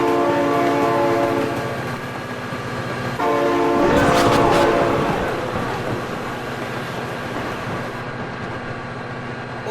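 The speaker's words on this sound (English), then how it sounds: "Oh my god, train!" A train rolls past in the BeamNG driving game, its loud sustained horn blaring in chords over a rumbling rail roar that swells near the middle and then fades, with no voices over it.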